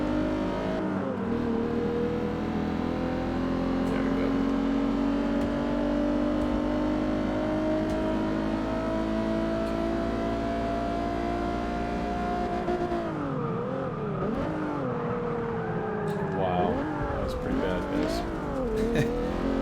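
Race car engines in Forza Motorsport 6 career mode rev steadily and loudly throughout, a sustained high drone that shifts pitch around the middle and then rises and falls through quick gear changes, with no talk over it.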